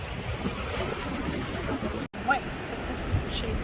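Wind gusting across a beach at sunset, a steady broadband rush with a loose hat flapping, closely miked, broken by a brief dropout partway through.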